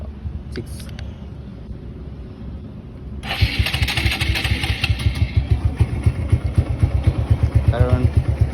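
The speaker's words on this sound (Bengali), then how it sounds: "আপনাদের কি স্টার্ট করে দেখায় বাইকটা" A motorcycle engine starts after a few seconds of quieter rustling and clicks, then settles into a loud, close, pulsing idle with a steady rapid thump.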